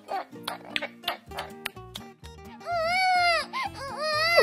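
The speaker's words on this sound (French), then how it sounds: "Moins fort, moins fort. Ne pleure pas." A baby, apparently a toy or plush doll, cries in rising and falling wails that grow loud and sustained over the second half, with an adult voice speaking underneath earlier on.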